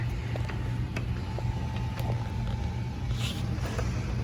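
Domestic sewing machine run slowly while stitching a quilted fabric tote, giving a steady mechanical whir with faint regular ticks and creaks throughout, close and alone with no voices.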